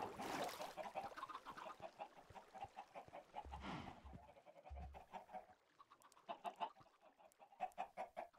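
Chickens cluck in the video game Minecraft, a run of repeated clucks that comes and goes through the stretch at moderate level, with a low thump of game sound in the middle.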